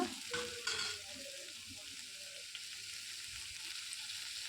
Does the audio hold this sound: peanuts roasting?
yes